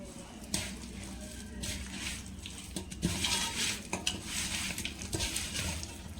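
Rock salt stirred into food in a cooking pot, with a spoon scraping and clinking against the pot in irregular strokes over a low background hiss of frying.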